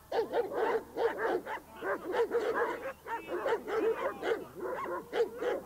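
Several dogs bark repeatedly in a quick, steady rhythm, with yips and whimpers mixed in. The barking is fairly close and continuous throughout, with no voices over it.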